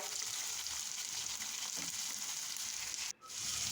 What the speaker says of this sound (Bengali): তেল দিয়ে এখন দিচ্ছি আমি রসুন পেস্ট আদার পেস্ট দিয়ে দিচ্ছি পেঁয়াজ